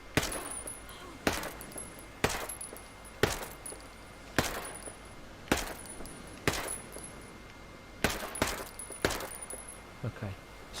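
Unsuppressed MP5 submachine gun fire in Ghost Recon Breakpoint, sounding as sharp, loud single shots or short bursts spaced roughly a second apart, about ten reports in all, with no talking.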